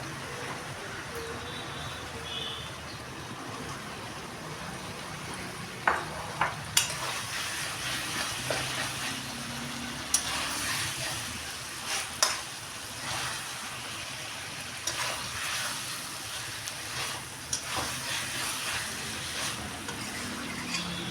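Katla fish fries in a pan of hot oil, a steady sizzle that runs throughout, broken by scattered sharp pops and utensil clinks.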